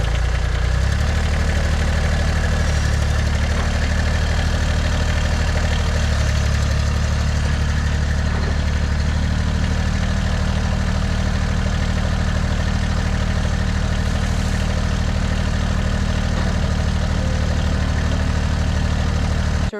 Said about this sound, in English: We just bring in the tractor